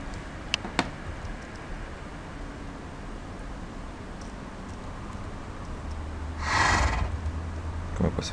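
Horse in the Minecraft video game giving a short whinny near the end, rising out of a faint steady background hiss, with a couple of small clicks earlier on.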